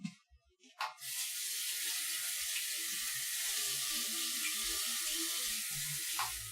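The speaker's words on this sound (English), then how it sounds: "I need to wash my hands again." Kitchen tap water runs steadily over hands being washed at a sink, a continuous broadband splash that starts after a brief knock and carries on unbroken to the end, close and fairly loud.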